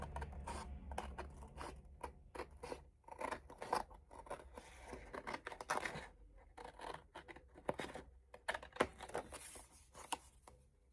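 Scissors snip steadily through a journaling card in a series of quick, close cuts with brief pauses between strokes and faint room tone underneath; no one speaks.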